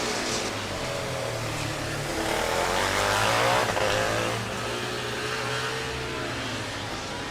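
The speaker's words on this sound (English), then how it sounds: "I think I can hear Niederrhein starting their engine in the driver change area." Formula Student race car of the Niederrhein team firing up in the driver change area during the FSG23 endurance event, its engine buzzing and revving with a swell in the middle, heard from mid-distance with no talking.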